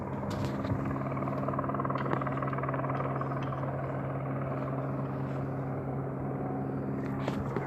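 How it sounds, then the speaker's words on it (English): A helicopter drones steadily overhead, a continuous low rotor and engine hum with tonal bands that stays loud throughout, with a brief louder swell near the end. "I hear another chopper."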